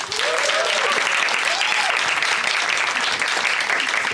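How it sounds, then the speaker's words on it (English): An audience at a women in B2B SaaS sales event applauds speakers coming on stage, a loud, dense and steady round of clapping with faint voices rising inside it. "can we have a big round of applause for Katelyn and Emma, please?"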